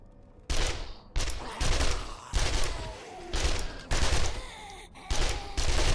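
SMG gunfire in 7 Days to Die during a downtown desert fight rattles out in a series of loud, close automatic bursts separated by short pauses, each burst a rapid chatter of shots.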